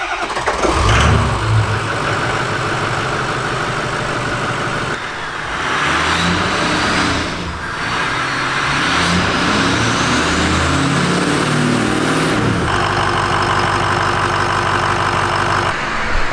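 A big 6.0 Powerstroke diesel truck engine with 300,000 miles cranks and fires up, then settles into a loud, steady rumbling idle with occasional revs, close by and with no talking.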